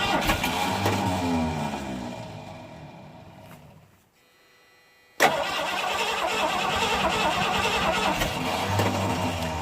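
A 1979 Ford F-150 with a 351 big-block V8 cranks and fires, the engine running loud and rough before cutting out to near silence, then abruptly catching again and roaring steadily.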